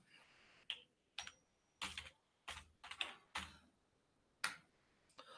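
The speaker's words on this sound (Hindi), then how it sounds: "सबसे पहले यहां पर हम टाइप करते हैं इंस्टाग्राम।" Typing on a computer keyboard in a quiet room, with short bursts of crisp, close key clicks separated by pauses, soft and unaccompanied.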